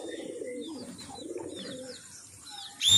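Pigeons cooing softly in low murmuring phrases as one bird descends, with faint chirps above, ending in a sudden loud rustle or flap.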